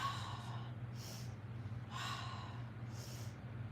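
A person breathes in a rhythmic series of sharp exhales and inhales during a fascia flexibility stretching exercise, close and soft, repeating roughly once a second over a low steady hum.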